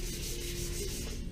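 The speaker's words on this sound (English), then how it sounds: "It's just very light sanding, very light pressure." Light hand sanding with 320-grit paper on a sanding block, a soft steady scratchy rub under very light pressure, close and quiet with no pauses.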